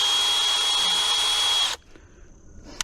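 A cordless power drill runs at a steady, loud, high whine for almost two seconds, then cuts off abruptly. A few faint clicks follow, then a short sharp tap at the end.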